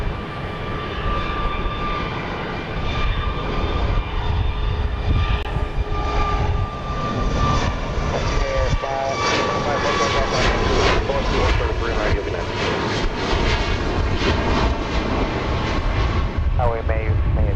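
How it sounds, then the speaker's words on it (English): A Boeing 737 MAX 8 jet airliner roars through its takeoff at Dallas Love Field, a sustained loud engine rumble with rising whine tones, heard from a distance across the airport, with a voice talking over it at times. "LaGuardia flight is 1370, the one that's taking off here."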